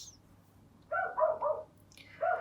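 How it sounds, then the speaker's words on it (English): A pet dog barks a few times at moderate distance, in a short cluster of three yaps followed by one more after a pause, over a quiet room hum. "you can hear our dog barking"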